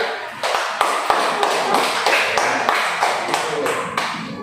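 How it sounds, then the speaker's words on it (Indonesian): Classroom students clap together for a student group about to present, a dense, steady patter of many hands filling the room, close and loud with sharper individual claps standing out, lasting several seconds. "Coba kita tepuk tangan dulu untuk kelompok 3"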